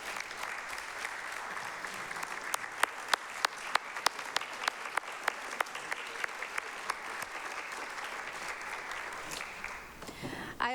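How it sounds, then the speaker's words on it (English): Council meeting audience applauds staff: steady, dense clapping from a seated crowd, fairly distant and moderate in level, with sharper individual claps standing out, continuing for about ten seconds before tapering. "please join me in giving our staff a round of applause for their tremendous and tireless work"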